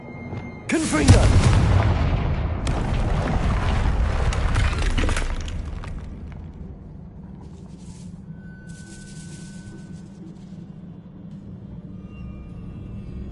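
A Confringo spell blast shattering a barrier in Hogwarts Legacy: a sudden loud booming crash with breaking debris that rumbles for several seconds, then fades into a low ambient hum with faint later clinks.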